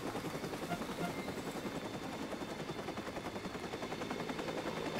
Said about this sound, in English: The freaking helicopter always fucks me.